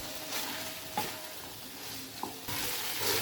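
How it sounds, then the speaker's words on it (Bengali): Potato and pointed gourd curry sautés in a pan, a continuous soft sizzle broken by a few distinct spatula scrapes and stirs, close and moderately quiet. "আমার কষানো হয়ে গিয়েছে"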